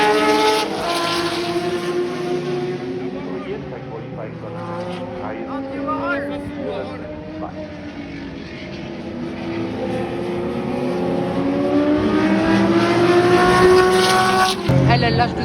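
Vintage racing cars, including a Group 5 car, roar past at the Nürburgring Old Timer Grand Prix, engines revving hard as drivers accelerate and downshift, loud and continuous with crowd noise and talk mixed in.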